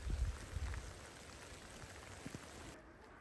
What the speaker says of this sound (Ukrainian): Періодично дощ надійде, потім знову зупиниться.